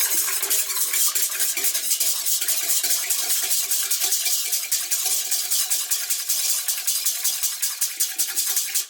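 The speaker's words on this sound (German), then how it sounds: "Bisschen umrühren." A spoon scrapes and clinks steadily against a bowl while yeast, sugar and water are stirred together, a quick continuous rhythmic clatter that stays close and loud throughout.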